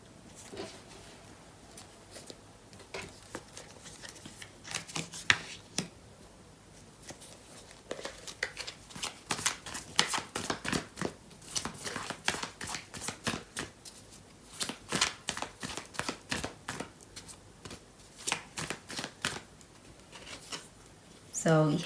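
Tarot cards being shuffled by hand, repeated crisp riffling and flicking bursts in an uneven rhythm, close and fairly quiet, running on for many seconds.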